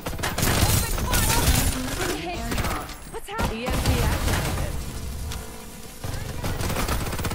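Rapid bursts of gunfire in the video game Farlight 84 crackle loudly and almost continuously, with brief pauses, over a busy mix of game noise and excited voices.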